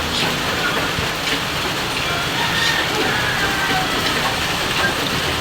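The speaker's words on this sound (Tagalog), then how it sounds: "Dito po grabe ang ulan." Heavy rain pouring steadily in a rural setting, a dense, even hiss of falling water with no talk over it.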